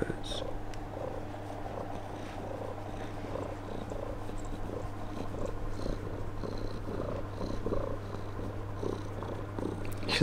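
A close, steady cat purr rumbling continuously, with faint soft sounds over it and no clear speech.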